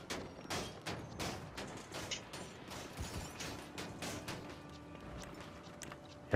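Gunshots ring out during a Doomsday Heist mission in GTA V Online, faint clattering bursts of gunfire mixed with mechanical clicks, fairly quiet and sporadic.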